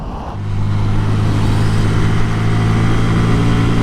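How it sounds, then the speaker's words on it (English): A fast-moving Lexus car gives a loud, steady engine drone with a constant hum that holds at near-even volume for the whole stretch, with no voices. "We get it, you're driving Lexus. You fast."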